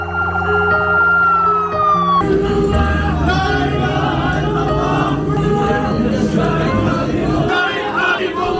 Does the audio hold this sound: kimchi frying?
no